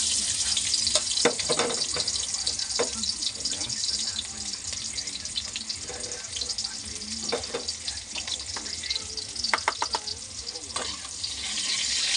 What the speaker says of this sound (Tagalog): Nung painit tayo ng mantika, lalagyan natin yung sibuyas, bawang.